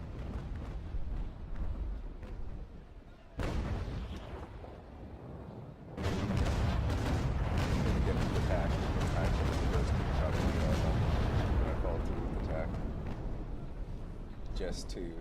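Ship cannons in a naval sailing video game fire a broadside: a sudden heavy boom, then after a short lull a long, loud rolling barrage of overlapping blasts and rumble, with a voice talking over it.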